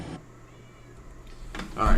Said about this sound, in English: my cat is now back asking to be let inside